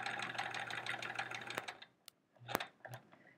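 Sewing machine stitching quilt binding, running in a fast, steady whir of rapid needle strokes for over a second, then stopping, followed by a few short clicks and brief bursts; close and fairly quiet, with no speech.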